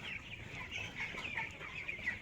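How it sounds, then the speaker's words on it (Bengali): Young farm chickens, about fifteen days old, cluck softly and continuously in a brooding shed on a hot day, a low steady murmur of clucks with no one speaking. "আপনাদের যদি আমি দেখাই মুরগিগুলোর সাইজ এবং আকারগুলো"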